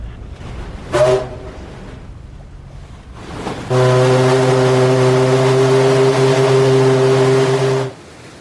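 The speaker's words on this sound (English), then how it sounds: "In about a second, Mrs. Brewster, you'll hear the whistle." A brief horn toot sounds, then after a pause a long, deep ship whistle blasts steadily for about four seconds over a low background rumble.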